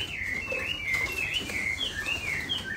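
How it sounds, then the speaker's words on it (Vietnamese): A male Chinese hwamei songbird sings a continuous run of bright, warbling phrases, close and fairly loud over a low background rumble, with no talking. "Chim đã hót rồi nhá các anh nhá."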